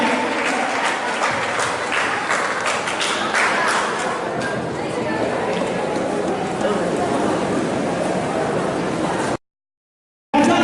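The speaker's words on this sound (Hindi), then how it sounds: "तालियां बजती रहनी चाहिए" An audience at a Teachers' Day gathering in Darbhanga claps loudly and continuously, a dense crackle of many hands that holds steady before cutting off abruptly near the end.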